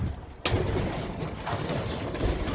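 Breeding pigeons cooing close by in a loft, soft low calls under a continuous rustling background after a brief sharp noise at the start.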